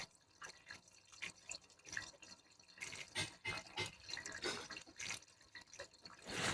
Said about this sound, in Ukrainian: Ще йдуть бульки повітря, йдуть бульки повітря. Проганяємо добряче, щоб пішло вже вода без бульок.